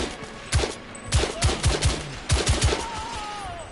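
Gunfire in the video game The Order: 1886, several loud close shots in quick bursts of two and three with short pauses between them, over a faint background hum and no talking.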